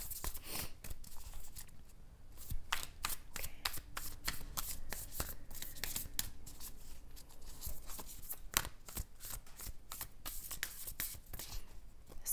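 A deck of tarot cards being shuffled by hand, with repeated riffling and sliding card noise in quick, uneven bursts close to the microphone, steady throughout with no talking.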